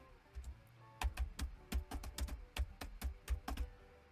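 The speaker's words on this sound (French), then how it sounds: "Saisissez-le au clavier." Brisk typing on a computer keyboard as a filename is entered, a run of close, sharp key clicks in uneven bursts with no talking.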